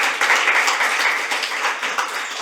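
Dense, steady applause from an indoor audience at a legislative debate forum, many hands clapping together at a moderate volume throughout.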